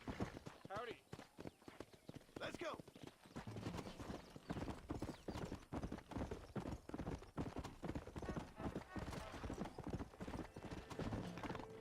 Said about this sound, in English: Having trouble swinging this horse around.